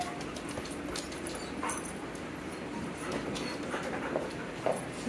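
Soft, high whimpers and small yips from a dog come in brief bursts over a steady low background hum, fairly faint and close.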